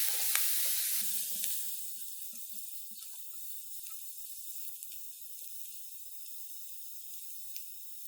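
Onion sizzling in a pan as it is stirred, a bright hiss that fades down to a soft simmer, with a few scraping stirs early on and occasional faint crackles.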